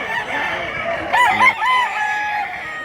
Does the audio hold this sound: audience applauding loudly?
no